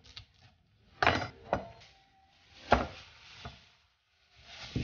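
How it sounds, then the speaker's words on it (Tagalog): A knife slices onions on a cutting board in a few distinct, close chopping knocks spaced out over several seconds, with faint clinks and quiet gaps between the cuts. "Gagayat muna ako ng ating mga sangkap."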